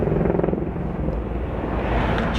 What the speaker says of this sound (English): Chopper's still flying around.